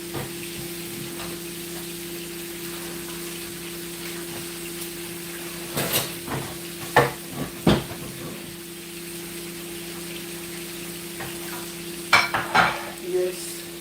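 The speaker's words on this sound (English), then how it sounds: "I'm just boiling the okra." Okra boiling in a pot during home cooking, a low steady bubbling and hiss with a constant hum, broken by a few sharp scrapes and clinks of stirring midway and near the end.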